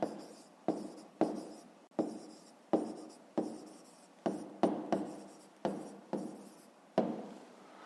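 Pen or pencil strokes writing out an answer by hand for a fifth-grade math exercise: about a dozen short, crisp scratching strokes in an uneven rhythm, close and clear with no talking.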